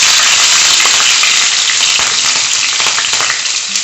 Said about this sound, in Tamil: ஒரு 6 சின்ன வெள்ளை வெங்காயம் கட் பண்ணி போடுறோம்.